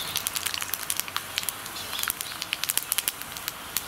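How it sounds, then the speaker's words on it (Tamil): Cinnamon and fennel fry in hot oil with a soft, close crackle of rapid small pops and sizzles scattered irregularly over a quiet hiss. "இந்த மசாலா வறுக்கிறதுக்கு எண்ணெய் சூடாயிருச்சு பட்டை"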